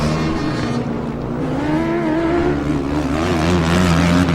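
Formula Student race cars on an endurance track, engines droning loud and steady with a rising and falling pitch as cars pass, continuous throughout.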